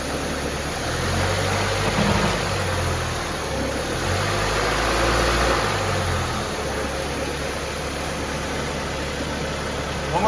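The engine of a 2004 Saab 9-3 hums steadily and close while the car sits in gear, rising twice in low rumbling swells as gas is given, over a constant hiss.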